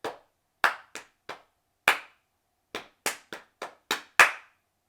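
Hands clap sharply in a dance routine, eleven crisp claps in an uneven rhythm with gaps between groups, close and clear with no talking over them.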